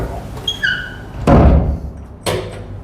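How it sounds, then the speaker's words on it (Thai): A door at a guesthouse room opens with a short squeak, then a loud thud, and a second softer knock follows, close by and without talk. "ประตู"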